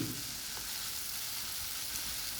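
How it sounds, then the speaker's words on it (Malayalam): Turmeric and chili powder sautéing in a pan, giving a steady close hiss of frying with a faint scrape near the start. "ഇപ്പോൾ നമുക്ക് പൊടികൾ ഒക്കെ ഒന്ന് ചേർത്ത് വഴറ്റണം മഞ്ഞപ്പൊടി മുളക് പൊടി"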